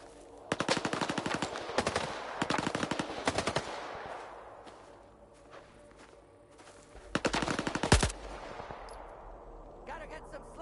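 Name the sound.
gunfire in the video game Stalker 2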